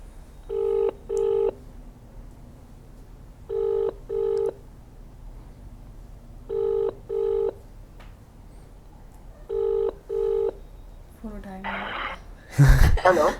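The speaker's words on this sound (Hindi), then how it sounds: "अभी हम उन्हें फ़ोन लगाते हैं एंड उनसे बात करते हैं" An outgoing phone call rings back in four evenly spaced double rings over a quiet room, followed by the call connecting and a voice answering.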